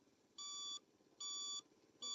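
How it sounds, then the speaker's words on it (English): Car alarm system giving three evenly spaced electronic beeps, each a steady high tone lasting under half a second, fairly faint over low background rumble. "That's a alarm system."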